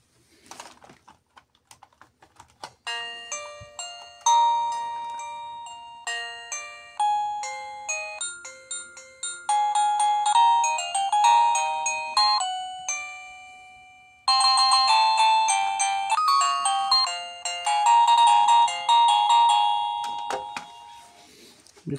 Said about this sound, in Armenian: միացնենք զանգը և ցույց տամ նրա ձայների տեսակը